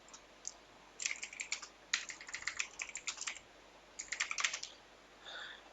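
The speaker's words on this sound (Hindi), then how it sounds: "इसमें लिख दिया जाए, यहां पर लेखक का नाम लिख दिया जाए" Keys clacking on a computer keyboard in quick bursts of typing, separated by short pauses, close and fairly quiet with no talking.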